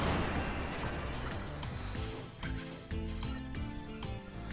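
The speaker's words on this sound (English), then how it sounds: "Just drop some explosions all around." Explosions in the Copy Kitty video game, a rapid barrage of punchy booms and crackling blasts going off one after another, loud and dense over a beat-driven electronic soundtrack.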